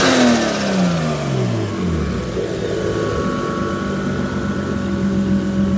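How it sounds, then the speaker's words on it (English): Nissan RB25DET engine in an S13 revving, a loud close rev with pitch falling as it drops back toward a steady rumbling idle, alone without talk. "But yeah, that's the engine."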